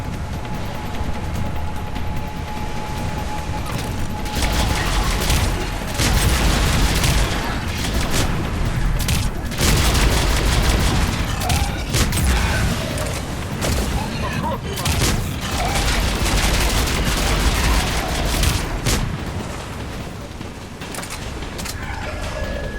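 Sustained gunfire and explosive booms from a Mass Effect 3 firefight, with dense bursts of shots and impacts running almost continuously at high loudness, alongside game sound effects.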